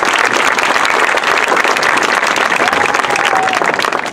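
Audience applause in a hall, loud and dense with steady clapping from a large crowd throughout, no pauses.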